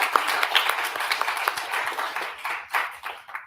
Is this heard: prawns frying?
no